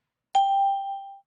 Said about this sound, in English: What about chimes?